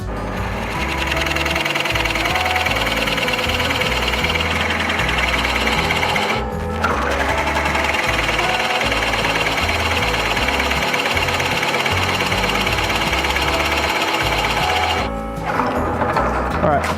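A power drill bores steadily into wood while a wooden monitor mount arm is being built, a loud continuous whirring with two brief pauses.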